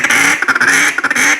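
A 1964 EV Iverson ebony duck call is blown in a rapid chuckle, a loud close run of short clipped quacking notes in a fast rolling rhythm, with no voice.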